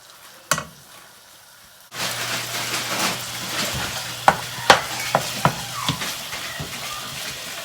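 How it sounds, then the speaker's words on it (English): Ground meat is broken up and stirred in a hot frying pan for slow-cooker chili: a soft sizzle with a series of sharp scraping taps from the utensil in the pan, close and clear, with no talking. "So I'm just chopping the meat up right now"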